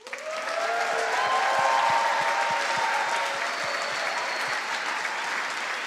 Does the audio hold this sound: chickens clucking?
no